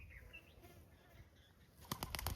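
Quiet outdoor ambience with faint bird calls gives way to a burst of rapid, clattering wingbeats as several pigeons take off nearby.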